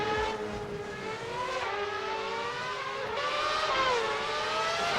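Race cars scream around a Formula-style video game circuit through a castle section, several engines overlapping with rising and falling pitch as they pass, loud and continuous with no talking.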